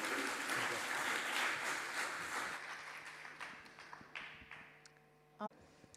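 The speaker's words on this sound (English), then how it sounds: "Give him again an applaud." Conference audience applauding in a hall, a dense wash of clapping for about two and a half seconds that thins into scattered claps and fades, with a sharp knock near the end.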